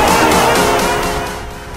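A new paramotor engine running during break-in, a loud, close, steady buzzing drone that eases off slightly toward the end.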